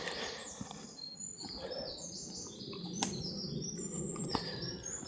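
Birds chirping in a quiet Japanese forest, several calls and tweets overlapping at moderate distance over a soft background hush, with a faint snap or crunch partway through.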